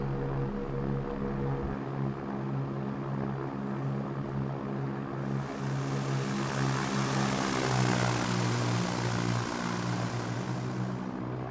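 Piper PA30 Twin Comanche climbing after takeoff in X-Plane: a steady, droning twin propeller engine hum that stays loud and constant, with rushing wind noise building partway through, and no voices.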